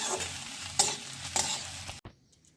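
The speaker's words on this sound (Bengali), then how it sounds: "ধনে পাতাটা দিয়ে নেড়ে চেড়ে নামিয়ে ফেলবো এই মাছের পুরটা" Rui fish filling being stirred in a hot pan with coriander leaves, a soft sizzle under several distinct scraping strokes of a spatula, then the sound stops abruptly, leaving near silence.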